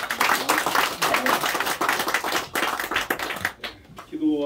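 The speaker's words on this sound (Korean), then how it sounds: "우리 하나님께 영광의 박수를 올려드리겠습니다" A church congregation claps together during a Sunday worship service, a dense, steady burst of applause that fades out near the end as a voice begins speaking.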